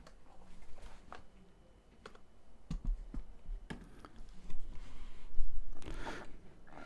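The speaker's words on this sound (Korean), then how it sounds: "키보드를 다시 한번 꺼내야 되겠네요." Keys clatter in sparse, irregular bursts on a computer keyboard, close and fairly faint, with scattered single clicks and short runs of typing against a quiet room.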